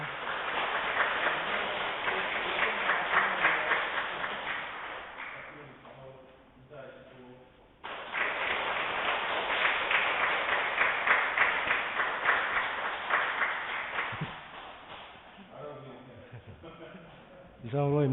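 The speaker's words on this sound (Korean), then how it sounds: "많은 박수 부탁드립니다" A church congregation applauding during Sunday Mass, a broad wash of clapping that fades in the middle, returns strongly, then tapers as a voice speaks toward the end.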